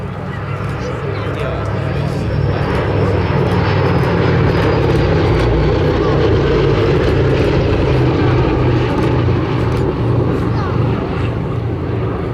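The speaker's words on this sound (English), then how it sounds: "It is the only Flying Fortress still flying in Europe." A B-17 Flying Fortress bomber, Sally B, flies at the Sywell 2024 air show, its propeller engines a loud, steady drone throughout while a voice talks over it.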